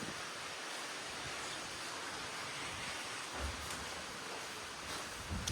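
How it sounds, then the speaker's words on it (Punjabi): Continuous hiss of steady rain falling, even and unbroken throughout, fairly soft with no voices. "ਮੀਂਹ ਟੇਡਾ ਆ ਗਿਆ ਮੰਮੀ"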